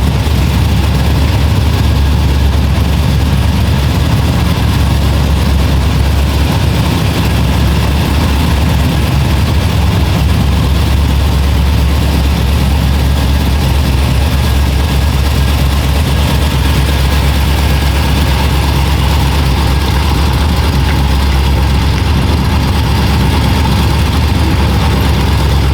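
LS3 V8 engine swapped into an El Camino with an 8HP70 transmission, running steadily at idle with a deep, continuous low rumble throughout, loud and close, with no talking.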